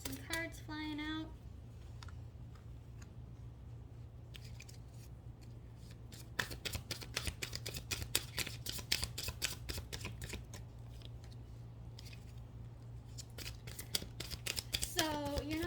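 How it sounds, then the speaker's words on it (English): Tarot cards being shuffled with some flying out, a long run of rapid crisp riffling clicks close up over a low steady hum, with a voice speaking briefly at the start and end. "Ooh, we got some cards flying out."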